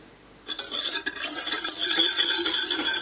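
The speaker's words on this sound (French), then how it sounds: "Et là, je vais mélanger." A utensil stirs sugar and water in a saucepan with quick, close scraping and clinking against the metal. The sound starts after a brief quiet moment and continues without any talking.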